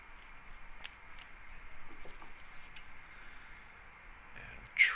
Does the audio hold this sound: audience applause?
no